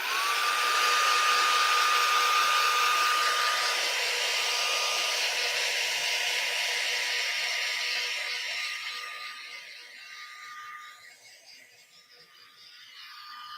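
A heat tool blows steadily, drying Distress spray ink on a craft project, a loud continuous whirring hiss with a faint whine that softens and dips toward the end, heard alone.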